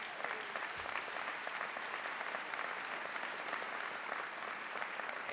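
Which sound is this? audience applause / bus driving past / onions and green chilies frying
audience applause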